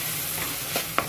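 Chicken for pancit canton being stirred in a pan: a soft continuous sizzle with a couple of faint scraping touches of the utensil, brief and steady.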